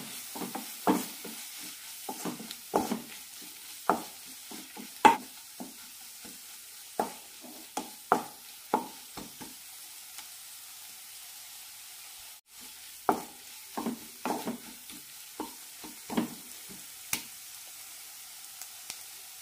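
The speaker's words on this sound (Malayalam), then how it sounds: "പൊടികളുടെ പച്ചമുളം പോകുന്നവരെ വഴറ്റിയെടുക്കാം." Ground coriander and chilli powders sautéing in a pan for an ivy gourd curry, giving soft sizzling with repeated stirring scrapes and clicks at an uneven rhythm, close and fairly quiet, with no talking.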